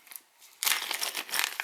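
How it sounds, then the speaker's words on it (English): Small plastic bag holding a KJW KC-02 hop-up chamber crinkles loudly as it is handled up close, a brief soft rustle followed by dense, continuous crackling. "The chamber is going to come in a little plastic bag like so."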